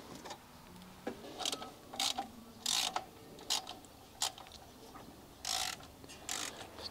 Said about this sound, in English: that's the unenviable task of undoing all the header bolts, which all face downwards.